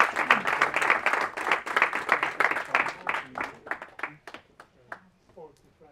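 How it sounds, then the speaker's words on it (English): An audience at a JavaScript meetup applauds after a talk, with dense clapping at first that thins into scattered individual claps and fades out over the last couple of seconds. "Forgot the applause."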